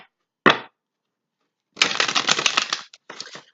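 Tarot cards are shuffled close by in crisp, papery riffles: a short snap, then a longer rapid flutter of cards, followed by a brief final burst.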